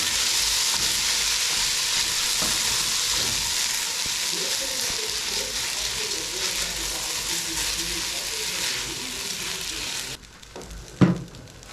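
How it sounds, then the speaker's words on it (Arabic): Washed, drained rice stirred into fried onions in a pot, a steady loud sizzle and hiss with spoon scraping throughout, fading out near the end before a couple of clanks. "وهنجيب الرز المغسول متصفي ننزل على البصل كده، وهنقلب البصلة في الرز"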